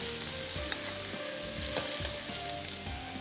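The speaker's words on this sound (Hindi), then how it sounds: "तो हम एक पैन में इसको 3 से 4 मिनट फ्राई करना है बस।" Prawns sizzle in hot oil in a pan while being stir-fried for chili garlic prawns, a steady close crackling hiss with a few louder pops and no talking.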